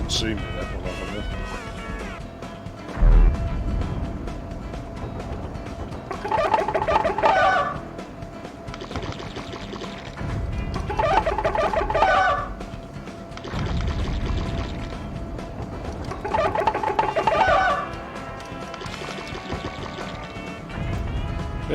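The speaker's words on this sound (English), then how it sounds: "See, now I could do with those Autisto chickens coming back." Chickens clucking in Earthworm Jim 3D, bursts of bright, choppy clucks recurring about every five seconds over a continuous game soundtrack, with someone talking at times.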